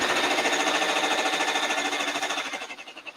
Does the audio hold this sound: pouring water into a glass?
no